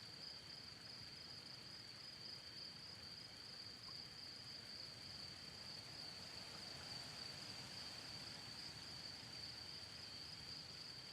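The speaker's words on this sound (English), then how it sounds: "it sounds like it's raining now here" Rain falls softly and steadily in a cozy video game, a faint, even patter heard alone, with a thin, constant high insect-like whine running throughout.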